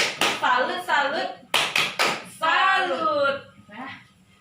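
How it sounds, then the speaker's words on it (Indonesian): A group performs the rhythmic 'tepuk salut' salute clap at a women's business-training session: sharp, close claps in quick sets, interleaved with loud voices chanting along in rhythm. "Kita tepuk salut dulu untuk Bu Salimah ya."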